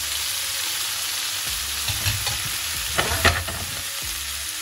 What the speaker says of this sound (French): Ici, je vais rajouter les boulettes dedans.